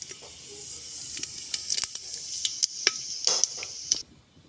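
Whole garam masala (cumin, dried red chillies, cinnamon, cardamom and peppercorns) hits hot oil in a pan, giving a quiet hiss broken by scattered sharp crackles and pops that fade out at the end.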